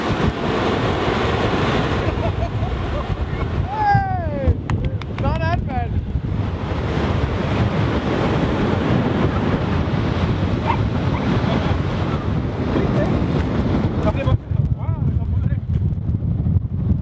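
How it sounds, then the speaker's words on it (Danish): Sea waves roar steadily onto a Jutland shore on a blustery day, a continuous broadband rush buffeted by wind gusts against the microphone, with people talking over it near the start. "se bølgerne, hvor de bruser"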